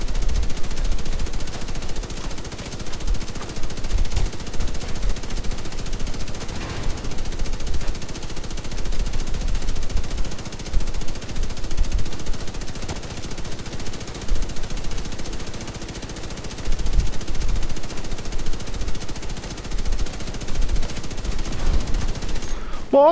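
Sustained gunfire from a Division 2 game firefight, with dense rapid bursts rolling on for the whole stretch over a constant low rumble, loud and busy, and faint voices underneath.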